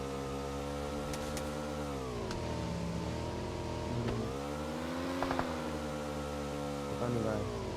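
A motorcycle engine in the PUBG Mobile video game revs up and down repeatedly, giving a buzzing mid-pitched drone that rises and dips in waves, with a few sharp clicks, close and continuous.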